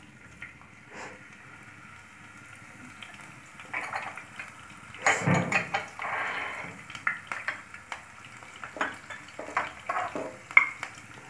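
Cumin seeds and green chillies frying in a pan for a quick sadbari curry, a soft sizzle with scattered clinks and scrapes of a spoon stirring, plus one louder clatter partway through, and no one talking.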